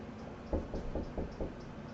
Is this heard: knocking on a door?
yes